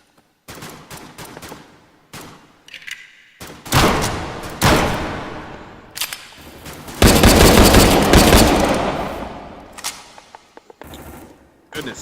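Bursts of rapid gunfire in a video game, firing in several loud volleys with short gaps, the heaviest stretch sustained near the end, with game sounds between.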